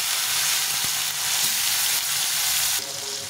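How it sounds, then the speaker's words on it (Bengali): Chopped tomatoes frying in oil with dried red chillies and nigella seeds, a loud, even sizzle with a few soft stirring knocks before it drops off near the end. "এই টমেটোটা দিয়ে ভেজে নেব।"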